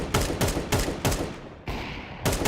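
Gunfire at the spawn area in Counter-Strike 2, a run of loud close shots in a steady rhythm, about five bursts with a short gap before the last, no talk.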